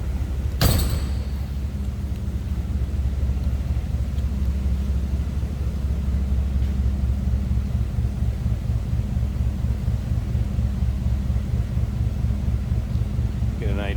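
A 1954 Oldsmobile 98 Deluxe Starfire convertible idles with a steady, low rumbling engine note, even and continuous, after a brief sharp knock at the start.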